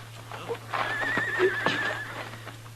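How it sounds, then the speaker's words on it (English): A horse whinnies loudly and close by in an old Western radio drama, the drawn-out neigh wavering for about a second, with a few hoof clops and faint voices around it. "I'll take my horse then, Ellen."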